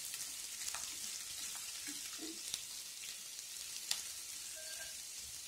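Cut bitter gourd being mixed in oil for a Kerala-style karela curry, a faint, steady low sizzle with occasional light scrapes and taps of a spoon.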